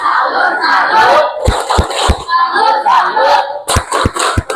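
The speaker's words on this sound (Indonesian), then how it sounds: "Berikan dia tepuk salut." A classroom audience of schoolchildren claps in a rhythmic pattern and chants together for a group presentation, with loud sharp claps in bursts amid crowd voices.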